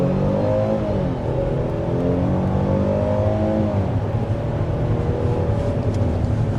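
A 2023 Hyundai Palisade with a 3.8-liter V6 accelerates hard toward 60 mph, its engine note climbing steadily through the gears and then levelling off under constant road and wind noise.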